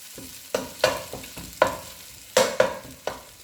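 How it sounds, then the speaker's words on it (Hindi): Fried chicken stir-fried in a pan, with repeated sharp spatula scrapes and clacks roughly every half second over a low sizzle, close and fairly loud. "चिकन को हमने भूनना है थोड़ा सा, 2 से 3 मिनट चिकन को भूनेंगे"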